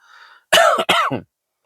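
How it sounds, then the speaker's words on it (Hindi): A person coughs once with a harsh double burst, close and loud, after a faint hum. "मैंने खांस लिया"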